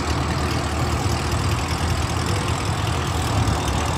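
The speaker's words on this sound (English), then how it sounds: "Man pulled up in the Challenger." A Dodge Challenger Scat Pack V8 rumbles at a Houston car meet, a steady, deep, continuous engine drone heard up close with no voices over it.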